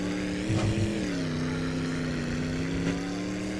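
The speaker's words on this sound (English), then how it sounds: "the V8 Kekmet actually can handle pretty well on the dirt roads" A modded Kekmet tractor fitted with a V8 engine drives along a dirt road in the video game My Summer Car, giving a steady droning engine hum with slight pitch shifts and no talk.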